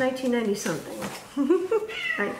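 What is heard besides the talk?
cat meowing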